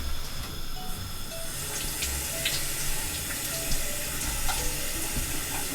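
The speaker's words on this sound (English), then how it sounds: "I'm just going to give these a rinse off." Tap water runs steadily into a kitchen sink while vegetables are rinsed, a continuous close splashing hiss with small irregular spatters and no talk.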